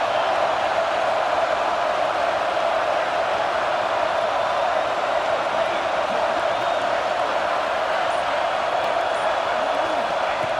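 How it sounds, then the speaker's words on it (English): Stadium crowd noise in a football video game: a dense, constant roar of a packed crowd that holds steady throughout, with no clear cheers or breaks standing out. "It's early, but this crowd is fired up. Listen to this noise here."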